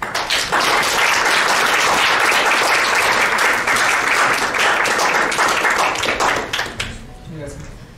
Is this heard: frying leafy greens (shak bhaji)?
no